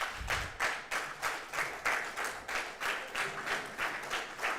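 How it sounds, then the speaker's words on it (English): An audience at the official launch of an ICT education project claps steadily, the applause rolling in even swells of many hands, moderately close and with no voices on top. "Can they please rise for our applause?"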